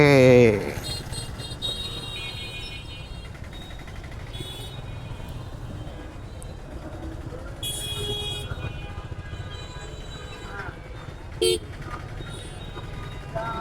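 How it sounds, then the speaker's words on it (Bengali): Dense traffic jam on a Rajshahi street, with a steady roar of engines and road noise plus a brief horn toot near the start and another short honk later. "রাজশাহীতে ভালোই জ্যাম হচ্ছে ইদানিং"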